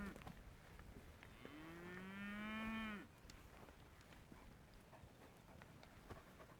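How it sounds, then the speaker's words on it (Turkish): A single long, low moo from a cow in a village herd of hornless German cows, fairly close, rising and holding before cutting off, followed by quiet outdoor ambience. "Alman inekleri şunlar. Boynuzsuz olanlar."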